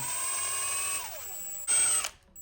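A power tool spins a bolt down on a Honda J37A4 engine during an all-motor build: a loud, steady whine that drops in pitch as the bolt seats, then a short, sharp burst of the tool before it stops.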